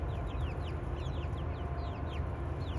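A small chicken clucks in quick, chirpy bursts while chasing after a piece of tomato among other chickens, its calls repeating steadily over a constant loud background rumble.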